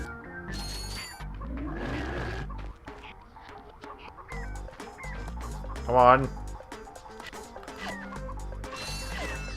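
Giant chickens clucking and squawking in the Ratchet & Clank video game, repeated fowl calls with crashes and combat effects, under a player's frequent talk.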